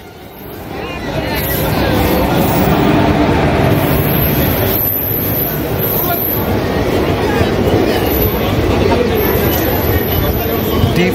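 Intercity Express train pulling into a station platform, a steady broad rumble that swells in after the first second and holds loud throughout, with crowd chatter and a faint high whine layered over it.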